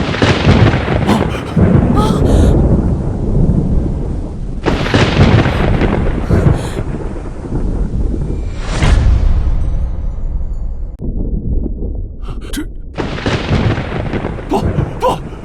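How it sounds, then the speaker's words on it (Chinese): Loud thunder cracks and rumbles in several heavy bursts, booming close by with crackling peaks and brief lulls between the rolls. "雷来！"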